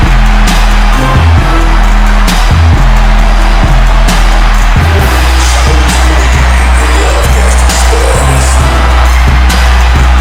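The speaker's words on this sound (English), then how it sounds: "As you can hear, the crowd is absolutely going berserk" A match crowd roars in a Pro League game, loud and continuous across the whole stretch, with low rumbling tones and occasional thumps underneath and no talk.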